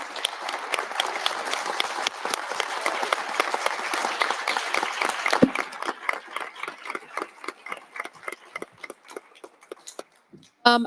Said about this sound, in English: Can we get a round of applause for your candidates, please?